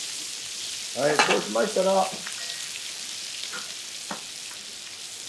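Chicken searing in a pan over high heat, a continuous close sizzle and crackle with a few sharper pops; someone speaks briefly over it early on.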